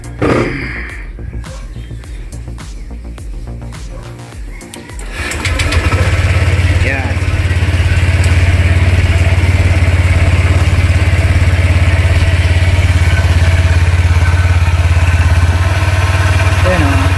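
A Honda Click 125i scooter engine starts after a few seconds of clatter and settles into a loud, steady, fast idle that runs unbroken, close up, with someone talking over it.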